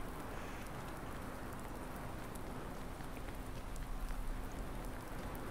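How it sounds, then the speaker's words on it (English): Steady rain falls in Farming Simulator 19, a dense continuous hiss of drops on surfaces that fills the whole stretch evenly, with no talk over it. "This rain makes it difficult, that is for sure."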